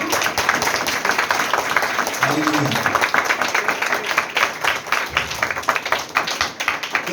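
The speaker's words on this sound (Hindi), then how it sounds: "क्या आप ताली बजा सकते हैं?" A church congregation claps along during a Hindi-language sermon, a dense, steady patter of many hands running throughout, with a preacher's voice and a brief sung note rising over it.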